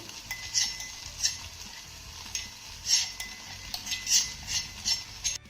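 A spoon scrapes and stirs in a pan as pounded spices are mixed into crushed okra thecha, with bright metallic clinks repeating at an uneven rhythm over a soft sizzle, close up, no talking.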